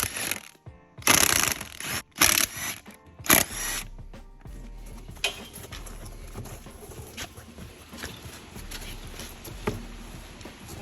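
Loosening lug nuts to pull the wheels off a Can-Am Outlander ATV, a few loud bursts of clattering metal at the start followed by scattered clinks and handling noises, close by.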